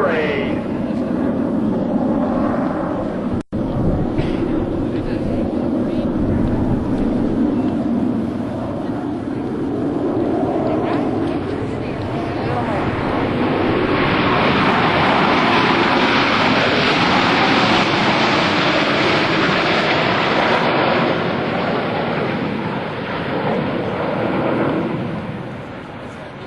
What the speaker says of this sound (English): at 350 miles per hour. The Blue Angel Echelon Parade.